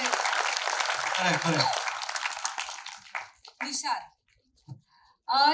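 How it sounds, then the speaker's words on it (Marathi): An audience at a Marathi film trailer launch applauds in a dense burst for about three seconds, then it fades out as a voice speaks over a microphone. "त्यांच्यासाठी टाळ्या व्हायला पाहिजे."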